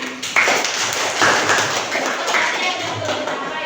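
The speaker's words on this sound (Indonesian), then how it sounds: "Tepuk tangan." Classroom clapping after students receive their scores, a few irregular claps and taps with voices in the background.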